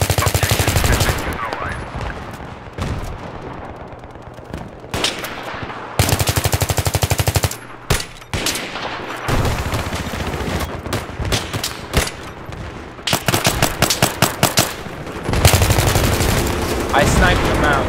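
Gunfire in the video game Battlefield 3: loud, dense bursts of rapid automatic fire and sharp shots repeating through the clip, with background game noise and some voices.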